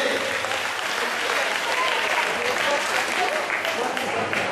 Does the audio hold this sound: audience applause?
yes